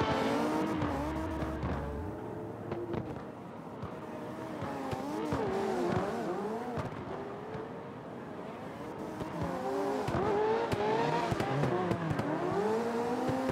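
Engine notes from drifting race cars on a high-speed track in the CarX driving game rise and fall continuously, with wavering revs and steady tire noise running throughout at a moderate, even level.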